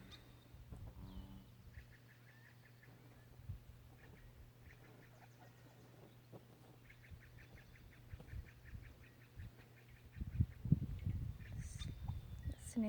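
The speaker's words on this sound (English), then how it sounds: "Listening to the flags move, the birds communicate." Ducks and other birds call outdoors at a nature retreat, with faint scattered quacking and chirps over quiet ambient hum, then louder rustling wind gusts near the end.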